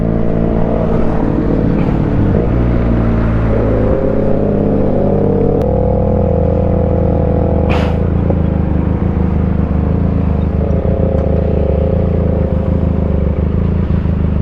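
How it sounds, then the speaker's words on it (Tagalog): A QJ Motor SRK 400 two-cylinder motorcycle fitted with an aftermarket exhaust pipe, idling with a steady, loud, throbbing burble and a brief blip of revs early on, close by and continuous throughout with no talking. "SRK 400 naka muffler. Ito yung tunog niya pag naka aftermarket na kayo na pipe."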